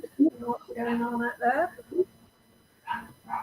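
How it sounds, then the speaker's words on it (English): Dogs bark somewhere in the background, faint and intermittent beneath a person talking close by. "You might be able to hear the dogs in the background."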